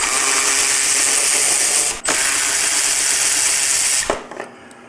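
Ratchet wrench on an extension loosening bolts on a motorcycle lower fairing, a loud, close, rapid clicking run, briefly broken at two seconds, then stopping shortly after four seconds; no talking.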